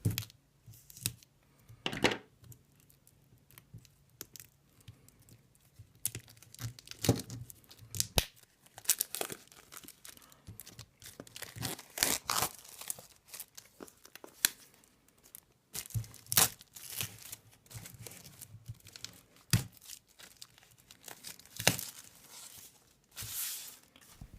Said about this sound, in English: now if we get the cellophane off